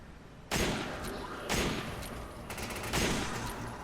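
Enemy gunfire in Resident Evil 5 arrives in loud sustained bursts, about three heavy volleys of rapid shots over steady background noise, with no speech.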